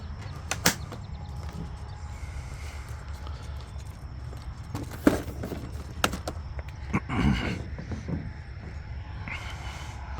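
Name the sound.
aircraft canopy being closed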